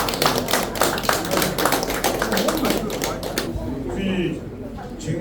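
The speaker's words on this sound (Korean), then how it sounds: "여러분 큰 박수 주십시오" Outdoor crowd at a political support rally giving loud, dense applause that rises and then thins out, with a few scattered claps and faint voices at the end.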